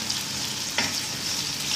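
Lamb harissa with onion frying in a pan, a soft steady sizzle with one brief stir or clink partway through, quiet and close.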